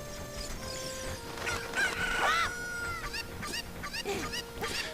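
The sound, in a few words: cuckoo chicken clucking in Zelda Ocarina of Time video game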